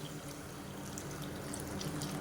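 Water pours steadily into a cooking pot, a constant, fairly quiet rushing and splashing that continues unbroken without any speech.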